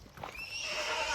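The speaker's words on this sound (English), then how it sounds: "look at these horses" A horse beside a trail on the Camino Primitivo lets out a clear, rising whinny that carries to the end, with a few soft hoof knocks just before it.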